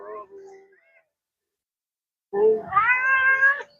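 An orange farm cat meows close by, first a short soft call, then after a pause a louder, longer rising meow, with no talking during the cries.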